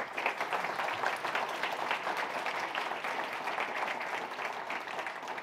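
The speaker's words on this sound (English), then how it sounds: "Round of applause for Emma," Steady applause from a festival conference audience for a speaker, dense and even across the whole stretch, at moderate volume.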